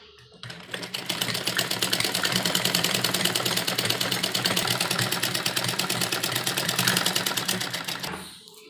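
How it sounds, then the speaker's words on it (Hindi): A sewing machine stitching a heavy-size suit with a pressed-down seam, running in one continuous rapid burst of about seven seconds with a fast even needle clatter, close and alone. "यहाँ पर एक दबी हुई सिलाई लगाएंगे।"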